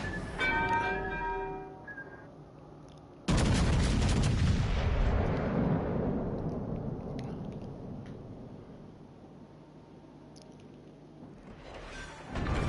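Destroyer torpedoes strike a battleship in a naval warship game: a loud, deep explosion erupts suddenly and rumbles away slowly over several seconds, preceded by ringing, bell-like tones and followed by another rising blast at the end.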